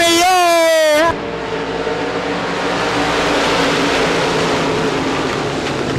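Limited modified race cars roar off the final turn of a dirt speedway at the green flag, a loud dense engine wall building after a brief whining drone at the start.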